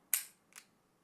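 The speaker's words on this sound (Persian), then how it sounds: "حالا از اینجا به بعد دیگه با آتش به اختیار." A gun fired at a target on a shooting course, one sharp crack followed by a fainter second report about half a second later, heard at moderate distance.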